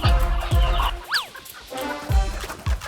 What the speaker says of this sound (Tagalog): maghahanap tayo ngayon ng isang klaseng manok na parang sinasabi nila ito yung native chicken na kilala dito sa Iloilo